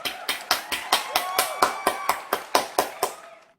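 A single pair of hands claps about fifteen times in a steady, fairly quick rhythm, crisp and close, then stops.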